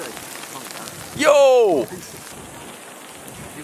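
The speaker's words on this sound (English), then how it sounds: "It's straight just hail now." Hail falls steadily during a New York City snowstorm, making a constant pattering hiss under a brief loud shout from a person.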